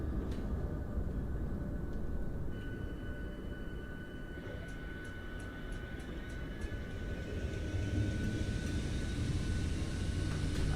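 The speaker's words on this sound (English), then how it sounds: "let's get the APU running" An auxiliary power unit on an iFly 737 MAX 8 runs in Microsoft Flight Simulator 2024, a steady loud turbine roar with a high whine rising partway through and faint repeated clicks, heard alone without talk.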